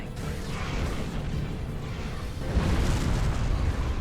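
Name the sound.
defense turrets firing at swarmers in Star Trek Online video game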